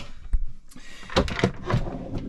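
Deep pan drawers in the kitchen of a 2024 Swift motorhome sliding shut, a few close sharp knocks and rattling runner clatters in quick succession.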